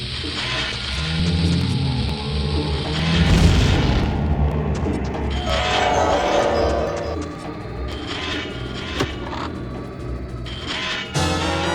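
Bomb explosions in the video game The Legend of Zelda: Ocarina of Time, with a loud booming blast near the start and further rumbling crashes and impacts through a dense, noisy game soundscape.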